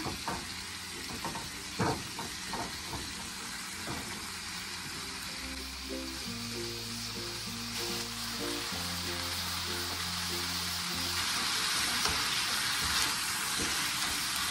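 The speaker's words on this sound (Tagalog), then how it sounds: "Isi-sear muna natin yung ating pork hanggang mag-brown sila." Pork spareribs searing in a hot pan, a steady close sizzle running throughout, with music playing over it.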